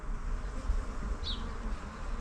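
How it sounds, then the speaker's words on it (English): A swarm of honey bees clustered on one another and on a fence hums continuously, a close steady buzz with a single bee passing briefly near the listener. "Bees on bees on bees."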